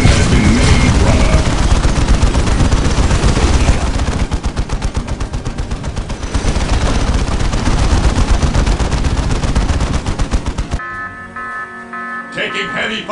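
Heavy rapid gunfire dominates a Dawn of War Soulstorm battle, with dense continuous machine-gun bursts and booms roaring for about ten seconds before cutting off abruptly, with voices speaking amid the din.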